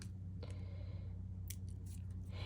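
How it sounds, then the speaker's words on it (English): The backing is peeled from a thick, chipboard-like scrapbooking sticker, giving a couple of short, faint tearing rasps against a steady low background hum. "Peel the backing off, because this too is a sticker."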